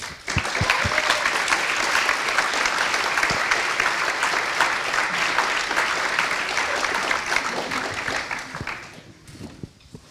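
An audience at a TUM and Google cybersecurity roundtable applauds to welcome two panelists to the stage, steady loud clapping lasting about nine seconds before fading out near the end.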